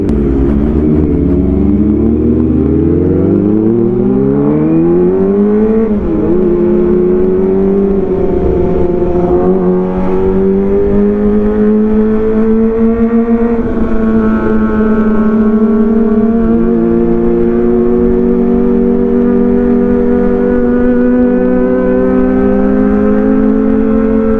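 A Kawasaki ZX25R fitted with an Arrow exhaust revs steadily and loudly throughout, its high-pitched four-cylinder wail climbing at first and then holding a sustained drone, with brief dips and swells as the throttle is worked.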